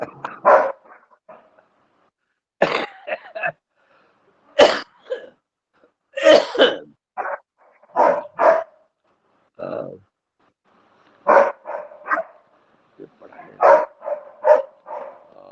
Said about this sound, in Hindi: कुत्ता भौंकता है।